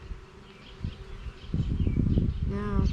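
Honeybees humming low around an open hive, a steady close buzz that grows denser toward the end, with a brief chirping tone near the finish.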